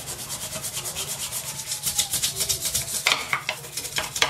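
A nail scrubber scrubs toothpaste off a bathroom sink in quick, repeated back-and-forth bristle strokes, a close, rhythmic rasping that speeds up and grows a little louder partway through.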